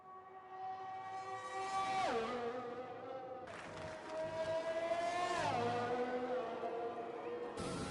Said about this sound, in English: So Switchback coming over the line to start a flying lap for Racing Point